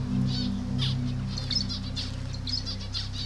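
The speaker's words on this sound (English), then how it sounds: "This cage has got different birds as well. Some of them are parrots, some of them are small birds." Parrots and small birds call in a park cage, with scattered chirps and wing flutters over a steady low hum of background noise.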